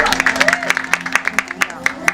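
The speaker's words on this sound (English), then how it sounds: "Round of applause for Claire." A small crowd claps for a volunteer at a fan convention panel, a quick burst of brisk, close applause lasting about two seconds with some voices mixed in.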